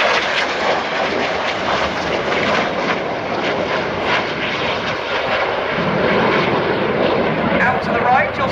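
A jet aircraft roars past at the Royal International Air Tattoo 2014 air display, descending to low display height; a loud, sustained broadband engine rumble fills the scene with a slight swell toward the end, heard up close outdoors.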